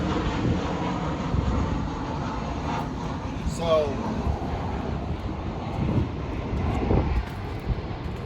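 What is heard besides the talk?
airplane passing overhead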